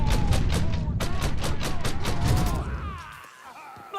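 Rapid bursts of gunfire in the Mafia 3 video game, a fast string of loud, punchy shots that thins out and stops near the end, with shouting voices mixed in.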